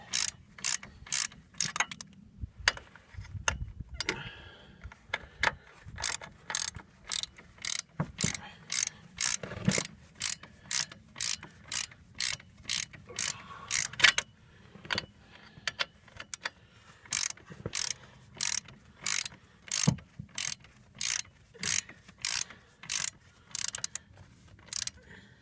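Ratchet wrench tightening the upper ball joint nut on a 2000 GMC Sierra, a long run of sharp, evenly spaced clicks in quick bursts with brief pauses, close and clear.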